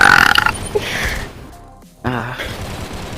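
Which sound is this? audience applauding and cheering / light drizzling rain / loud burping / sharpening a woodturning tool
loud burping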